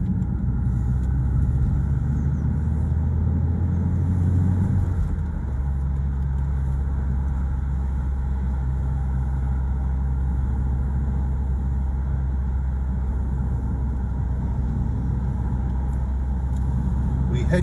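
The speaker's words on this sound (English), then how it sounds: "Traffic's pretty easy going into Colchester." Road traffic heading into Colchester on a hot June day, with steady car engine rumble and occasional revving from a vehicle moving along, loud and continuous throughout with no talk.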